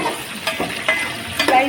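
Four sliced onions being tipped into a hot pan and stirred for a curry, a steady loud sizzle with scraping and stirring bursts at intervals, close up.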